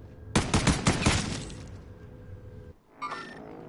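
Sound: gunfire in a video game

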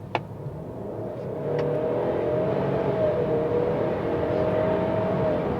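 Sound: Ford Explorer 2.3 EcoBoost four-cylinder engine accelerating hard

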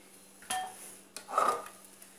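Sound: spatula scraping brigadeiro filling from a pan

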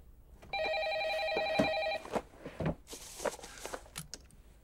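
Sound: telephone ringing

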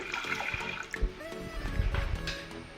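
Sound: water being poured

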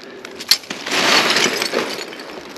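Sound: broken glass being cleared away

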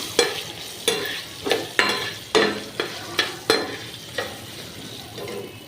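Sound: green chillies frying in pan with grated mango

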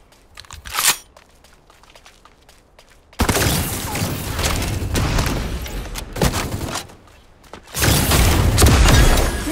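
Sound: gunshots in the video game Super Mecha Champions

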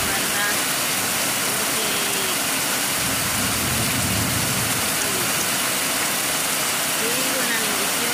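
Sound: heavy rain falling

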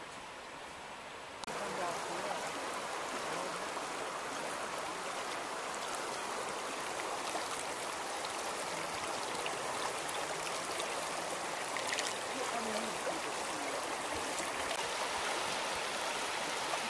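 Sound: river flowing near a garden in Columbia Falls, Montana

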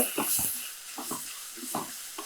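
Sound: stirring turmeric into chicken vermicelli soup

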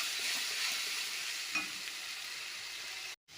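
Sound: spices frying in oil

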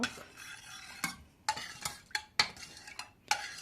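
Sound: stirring potato marinade

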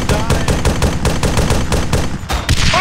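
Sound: gunfire in the video game Arma 3

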